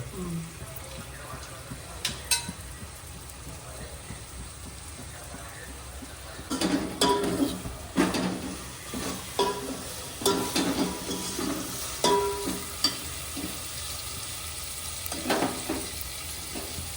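Onion and ginger garlic paste for pav bhaji frying in a pan while being stirred: a quiet sizzle runs throughout, with repeated scraping and clinking stirs that grow busier partway through. Voices talk faintly in the background.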